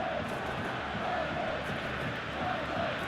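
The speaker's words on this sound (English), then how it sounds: "the crowd clearly like what they just saw" A stadium crowd in the PES 2021 football game gives a broad, steady roar of cheering, distant and continuous with no distinct peaks.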